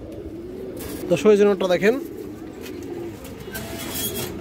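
A silver bezi pigeon gives one drawn-out, warbling coo at close range, set between stretches of someone talking nearby.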